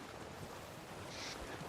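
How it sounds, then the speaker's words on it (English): Ocean waves wash steadily in Sea of Thieves while sailing, a continuous broadband surf and wind rush with no speech. "the fun sound cues that sort of merge into the waves"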